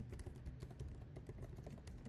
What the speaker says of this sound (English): this part that I'm typing out right now